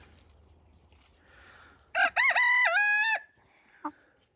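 A rooster crows loudly and close by in one long, drawn-out call, with soft hen clucks before and after it.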